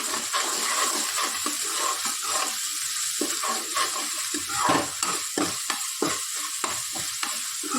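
Onions with ginger-garlic paste are stirred in a sizzling pan for potato curry, with a steady fry hiss under repeated scraping spoon strokes, close and clear, no voices.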